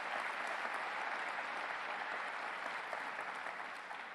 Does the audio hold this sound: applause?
yes